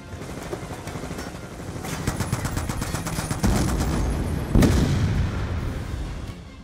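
Gunfire in a Call of Duty campaign: rapid automatic bursts build in intensity, punctuated by a couple of heavier booming impacts, loud and continuous with no talking.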